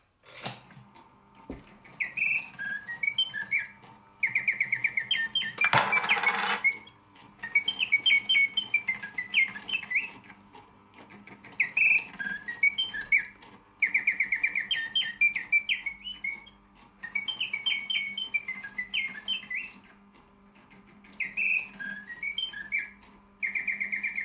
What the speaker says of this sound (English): a Bon Toms triple singing bird on originally penny operation and now coin slot for whatever coin you like